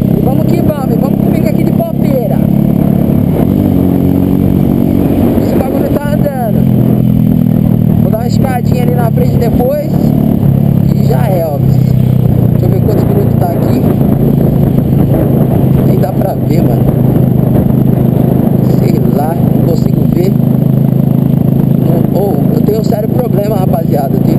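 A Honda Pop 110 motorcycle ridden along the road, its steady engine drone and wind rumble loud and continuous throughout, with a rider talking over it nearly the whole time.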